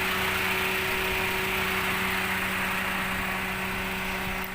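Engine of a 2011 Toyota Avanza G manual MPV idling steadily at close range, an even hum with a constant low tone and no talk over it.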